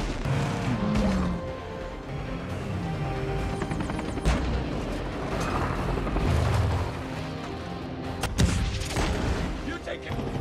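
Chaotic action-film sounds as a helicopter is shot down and crashes: crashes, booming impacts and bursts of gunfire over dense background noise, with voices talking at times.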